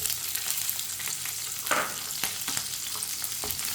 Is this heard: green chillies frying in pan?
yes